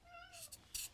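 A domestic cat gives one short, close meow with a falling tone, followed by a couple of quick breathy rustles in a quiet indoor room.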